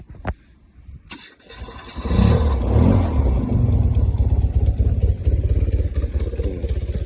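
A BMW R90S flat-twin motorcycle engine cranks with a brief click, then fires up on choke and settles into a loud, steady, throbbing idle close by.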